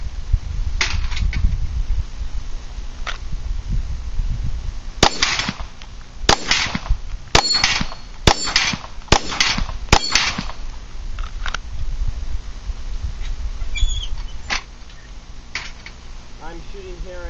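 Glock 19 Gen 4 pistol fired at about 7 yards: a series of about eight sharp, loud shots spaced roughly a second apart over steady background noise, with someone talking before and after.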